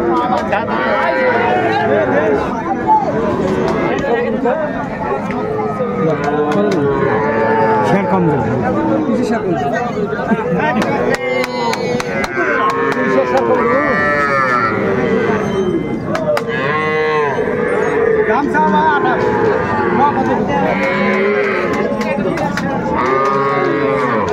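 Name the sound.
bull calf mooing at a cattle market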